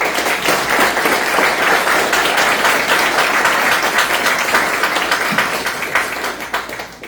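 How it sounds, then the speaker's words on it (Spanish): Audience at a law conference gives a speaker a strong round of applause, dense steady clapping filling the room for several seconds before easing off slightly at the end. "Les pido un fuerte aplauso para él."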